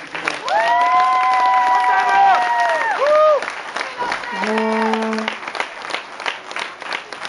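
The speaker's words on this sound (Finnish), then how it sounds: "raikuvat aplodit Teemulle" Football crowd applauding and cheering for Teemu Pukki at an outdoor stadium in Kotka, a broad, steady roar of clapping with whistles and shouts mixed in, loud and continuous.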